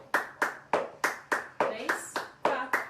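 Sharp hand claps marking a beginner tap dance lesson exercise, evenly spaced in a steady beat of about ten crisp claps, close and clear, with no talking over them.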